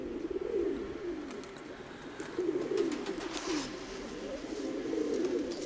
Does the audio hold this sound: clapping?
no